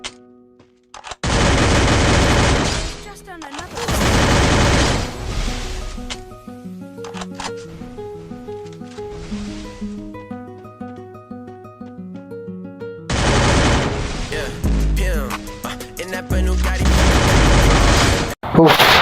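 Gunfire in Free Fire played on a PC arrives as long loud bursts of rapid shots near the start and again near the end. Tonal game music and effects fill the quieter middle.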